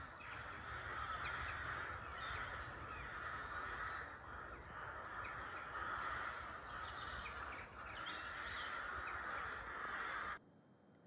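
Crows cawing repeatedly among trees, several harsh calls scattered over a steady outdoor background with fainter chirping birds, no voices.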